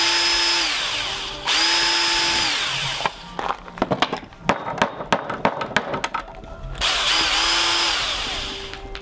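Power drill spun up to fake construction work noise, two long loud whining bursts that ramp up and hold, separated by a stretch of sharp clattering knocks, then a third run near the end.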